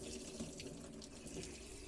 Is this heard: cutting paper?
no